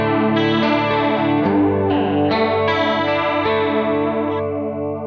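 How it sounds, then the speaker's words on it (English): Electric guitar chords shimmer through a chorus effect pedal, a wobbling, doubled tone with a little grit, ringing steadily and loud. "So this is the chorus."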